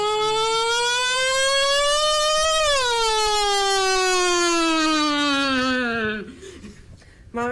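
A voice imitates a siren, beginning soft and swelling into a loud, sustained wailing tone that rises and slowly falls, then fades out near the end, with a faint laugh-like break.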